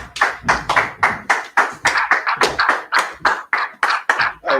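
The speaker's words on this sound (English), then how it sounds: "Clap it up." A group claps at a brotherhood class, a loud, close, rhythmic run of sharp hand claps in quick bursts, with no talking over it.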